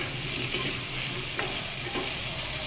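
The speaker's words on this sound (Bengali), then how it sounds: "দেখুন কুমড়োটাকে কিন্তু বেশ ভালোভাবে ভেজে নিচ্ছি" Pumpkin pieces frying in a pan for a Bengali vegetarian vegetable and moong dal dish, giving a steady close sizzle with a couple of soft stirring scrapes and no talk.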